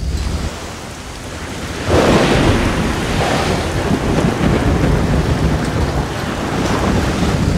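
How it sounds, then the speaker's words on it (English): Stormy weather in the game Risen 2, with a steady roar of heavy rain and wind that swells sharply after about two seconds, and a deep rolling rumble of thunder underneath, loud and continuous with no voices. "In this storm?"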